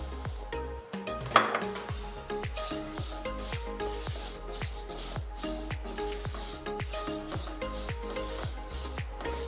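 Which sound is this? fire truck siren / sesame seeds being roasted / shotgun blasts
sesame seeds being roasted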